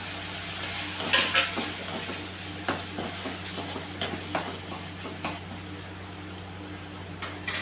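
Finely chopped tomato fries in a pan with a soft, steady sizzle under a low background hum, punctuated by repeated stirring scrapes and light taps.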